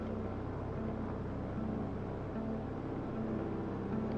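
A light aircraft's piston engine held at 2,000 RPM on the ground for a magneto check gives a steady, loud, even drone with a faint pulsing hum throughout.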